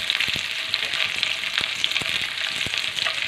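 Ten to twelve garlic cloves fry in hot oil for a paneer curry, a close, bright, crackling sizzle with frequent small pops throughout.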